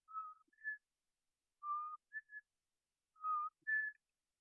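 A person whistles a short two-note tune three times, each phrase a low note then a higher one, clear and close in a quiet room, with pauses between the phrases.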